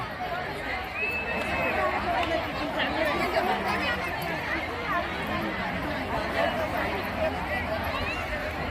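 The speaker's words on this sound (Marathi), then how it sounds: "गर्दी भयंकर गर्दी झालेली आहे" A huge crowd of devotees gathers at a religious katha event in Chalisgaon, making a constant murmur of chatter and shuffling movement that fills the space at moderate level, with voices talking nearby.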